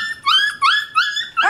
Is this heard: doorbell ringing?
no